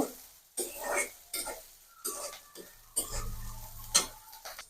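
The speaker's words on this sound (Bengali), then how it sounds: "পেঁয়াজ আর মরিচের সাথে একটু ভাজা ভাজা করে নিব" Puti fish frying in a pan with onion and chili, bursts of stirring and sizzling in short separate strokes, fairly quiet, with no talk.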